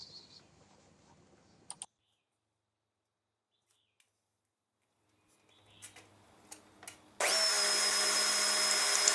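Router table spinning up to cut a wooden workpiece fed against the fence, a loud steady high-pitched whine that starts abruptly after scattered clicks and handling knocks.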